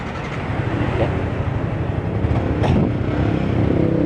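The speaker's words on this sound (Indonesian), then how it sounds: "Motor hidup tanpa ada kendala" A Yamaha R15 V3 motorcycle engine runs steadily with a continuous low rumble, loud and close, with no talking.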